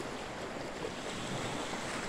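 A short, faint stretch of sea waves at Marechiaro in Naples, a continuous broadband wash of surf mixed with wind noise and no voices.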